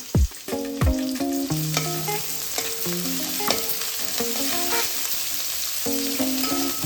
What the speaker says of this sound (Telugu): ఒక బౌల్ పెట్టుకొని అది హీట్ చేసి 2 స్పూన్ల ఆయిల్ వేసి ఉల్లిగడ్డ పచ్చిమిర్చి వేసి